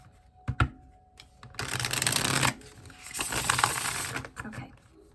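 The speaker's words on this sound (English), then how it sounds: "One more shuffle." Tarot cards being shuffled in a couple of long riffling bursts, with a few soft taps and handling sounds before and after, close and fairly loud, and nobody talking.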